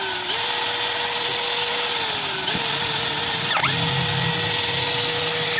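A corded power tool runs steadily at low speed after oil was worked into its trigger switch, giving a constant whining hum close by with a slight dip and a faint click partway through.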